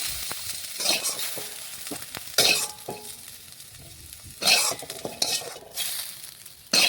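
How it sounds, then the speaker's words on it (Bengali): Carrots and potatoes frying in a wok, with a soft oil sizzle broken by several bursts of stirring and scraping with a utensil, close by and without talk. "দেখুন, গাজর আলু ভাজা হয়ে গেছে"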